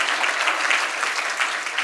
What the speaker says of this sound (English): If we can give a round of applause to Dr. Cassellius.